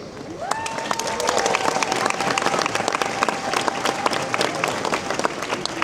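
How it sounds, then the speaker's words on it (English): Outdoor crowd applause at the Riding of the Marches in Edinburgh for the official principal party and honoured guests, steady crisp clapping with a sustained tone sounding behind it for a while. "let's have one final round of applause for the official principal party and honoured"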